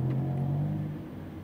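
A Lamborghini Huracan on a track at Speed Vegas idles with a steady low engine hum that eases slightly as the car creeps forward at low speed.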